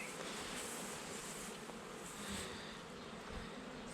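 Bees at a beehive during an inspection make a dense, continuous buzzing drone. It is close and steady throughout, with no voices.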